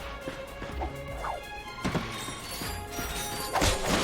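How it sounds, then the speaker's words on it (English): Ratchet smashing wooden crates in the Ratchet and Clank video game, a few sharp crash and thwack impacts scattered over steady game music and background effects. "Look at him smashing crates."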